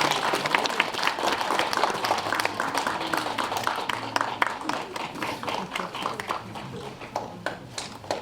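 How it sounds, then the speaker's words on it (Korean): Applause from wedding guests welcoming a bride and groom as a lantern-led couple enters a traditional Korean ceremony, steady crowd clapping sustained throughout with a voice over it. "큰 박수로 환영해 주시기 바랍니다"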